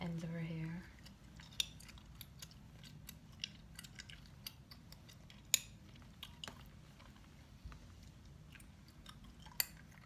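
Scissors trim the ends of straightened rainbow mannequin hair in a quiet close-up setting, producing sparse, sharp snips scattered over a soft steady background.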